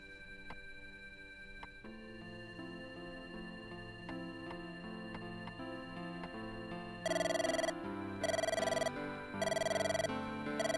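Telephone ringing in the horror game Mirrors: after a stretch of quiet tonal music, loud electronic ring bursts arrive in three repeated pulses, clear and close over the soft background score.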